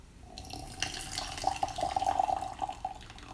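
Water runs from a tap into a vessel for the next steep of tea, a steady close trickle with small splashy bursts that builds in the middle and tapers off, with no talk over it.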